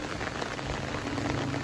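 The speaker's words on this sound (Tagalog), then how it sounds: "Dahil maghapon yung ulan, maghapon magdamag" Steady monsoon rain falls continuously, with a dense patter of drops drumming on a surface, fairly close and loud.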